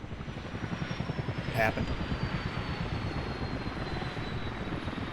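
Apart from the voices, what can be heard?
helicopters flying in a video game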